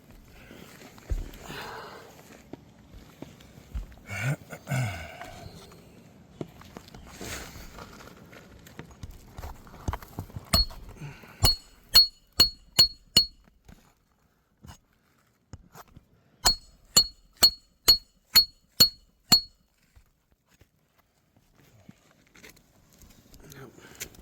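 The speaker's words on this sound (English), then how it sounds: "You can literally see the granules falling as he's hammering it in" Two quick runs of sharp, ringing metallic taps, about six then seven strikes in steady rhythm, following a stretch of people talking.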